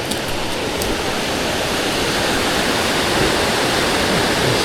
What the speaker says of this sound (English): Check out the creek as we have to cross it.